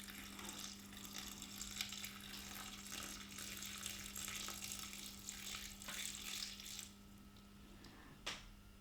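Vinegar for spicy onion tomato chutney pours steadily from a bottle in a kitchen, a continuous liquid splash and trickle lasting several seconds, ending with a brief louder knock near the close.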